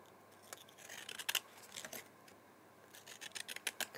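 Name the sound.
scalloped edge scissors cutting card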